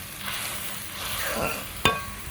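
Spices sautéing in curry gravy for a tengra fish dish, a continuous close sizzle with soft stirring and a single sharp clink of a utensil near the end, no talk.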